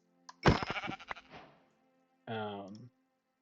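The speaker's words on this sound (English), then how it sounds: "Oh, Mr. Sheep, let's look off into the sunset." A sheep bleats twice in a video game, first as a long wavering bleat and then as a shorter, clearer one after a pause, close and alone against a quiet background.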